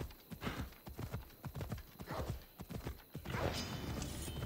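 Steady clip-clop of horse hooves trotting in the video game Assassin's Creed Odyssey, repeated rhythmic thuds at close range, with a faint game-like background hum and a brief whinny near the end.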